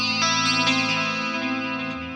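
Clean electric guitar tone through AmpliTube 5 CS with a digital delay at full setting: sustained chord ringing with repeating echoes layered on top, steady and fairly loud, slowly fading with a slight chorus-like shimmer.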